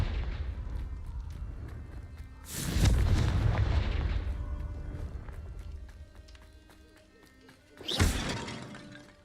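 Confringo spell blasts in the Hogwarts Legacy video game: two loud booming explosions with shattering debris, one near the start and a sharper one later, over a steady low game rumble.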